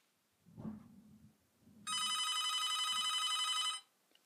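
One of several household telephones rings in a steady, loud electronic trill lasting about two seconds, after a few faint spoken words.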